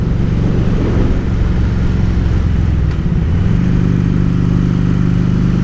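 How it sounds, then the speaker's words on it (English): Constant loud engine drone and rushing road noise from a motorcycle being ridden without a windshield, with the engine pitch shifting partway through as the rider changes speed. "I did leave the windshield off, so I don't know how much road noise I'm getting."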